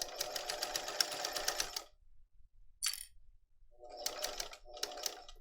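A sewing machine stitches a messenger bag in short bursts close by: one run of rapid stitching, a pause with a faint click, then two brief spurts.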